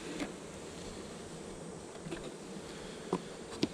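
Honey bees buzz softly inside an opened hive while new frames and a honey super are added; the low, steady drone stays faint, broken by a few light knocks.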